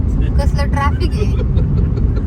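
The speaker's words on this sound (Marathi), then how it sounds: "या साईडला, खूप ट्रॅफिक आहे बघा" Busy road traffic heard from inside a moving vehicle: a steady low engine and road rumble throughout, with a voice briefly audible over it near the start.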